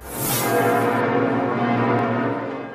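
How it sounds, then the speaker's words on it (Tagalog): Cathedral bells of Notre Dame in Paris ring out in a loud, sustained, overlapping peal. The dense metallic tones linger and blend together with no voices. "Sa Notre Dame Cathedral sa Paris, pinatunog din ang kampana."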